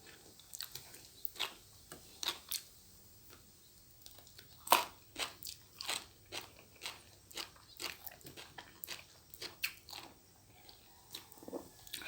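Someone eats a spicy Lao bamboo shoot dish, with repeated close, crisp bites and wet chewing crunches in an irregular rhythm over about twelve seconds, fairly quiet and with no talking.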